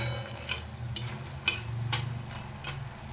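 Biuli dal bori, little lentil dumplings, frying in a pan: a steady low sizzle of hot oil broken every half second or so by sharp scraping stirs, close and fairly quiet, with no talking.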